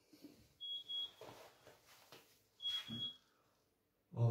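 An oven timer beeps in two double-beep pairs, thin and high-pitched, with faint rustling and movement around them.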